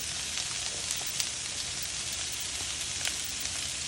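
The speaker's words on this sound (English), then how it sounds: "So, in go my onions first." Onions sautéing in a pan for Cajun/Creole cooking, a steady hissing sizzle like light rain, close and even, with a few faint clicks and no voices.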